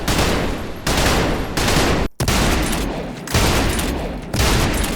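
Loud, sustained bursts of rapid automatic gunfire from the video game Trepang2, broken by brief pauses, dense and overwhelming with no voices.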